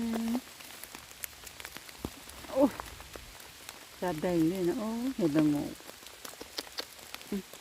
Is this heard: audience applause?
no